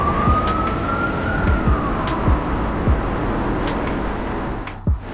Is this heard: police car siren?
yes